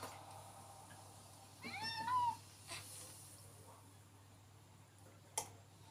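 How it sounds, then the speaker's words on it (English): A Minecraft cat gives one clear, rising-and-falling meow in the middle, loud against a low steady background hum, with a faint click near the end. "It's a cat."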